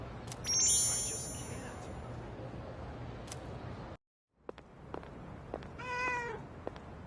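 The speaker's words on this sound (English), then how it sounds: "Was that a cat's meow?" A cat meows in the video game Persona 3 Reload, a couple of soft, clear mews set against quiet game ambience and a brief break in sound.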